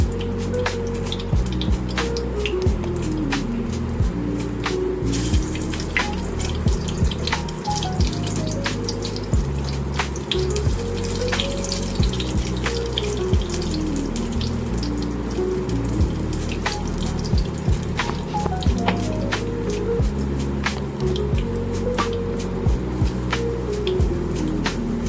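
Food frying in a pan, a steady crackling sizzle with scattered sharp pops and spits, continuing under soft background music.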